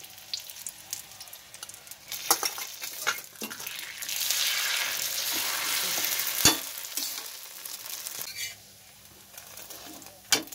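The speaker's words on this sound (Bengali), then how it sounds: "ফাটিয়ে রাখা ডিমটা দিয়ে দিচ্ছি" A cracked egg sizzles in mustard oil over a fried roti in a pan, a steady frying hiss swelling in the middle with occasional sharp clinks and taps.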